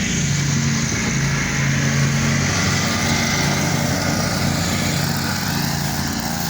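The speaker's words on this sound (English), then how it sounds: "We're gonna mow it anyway." A lawn mower runs steadily while cutting an acre-sized lawn with weeds, its engine drone loud, close and continuous, with no talking.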